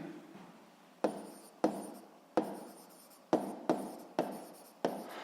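A pen writes on paper while a school physics proportion problem is worked out, in about eight crisp, close bursts of scratchy strokes separated by short pauses, with no talking.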